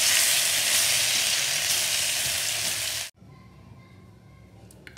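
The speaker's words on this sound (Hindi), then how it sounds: "घी गर्म हो गया है, अब हम उसमें ये अदरक का पेस्ट डाल देंगे।" Ginger paste frying in hot ghee for a ginger barfi, giving a loud, close, steady sizzle that cuts off abruptly partway through and leaves a quiet room hum, no talking.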